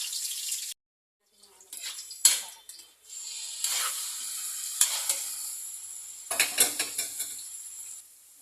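Vegetables sauté in a pan, sizzling in close bursts with brief pauses between them, along with stirring scrapes and a few sharp clinks.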